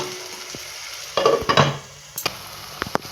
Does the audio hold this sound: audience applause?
no